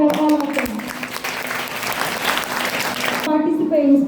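Audience applause at a school inter-house English story narration competition, a steady burst of clapping under an announcer's voice, which carries on briefly after the clapping stops.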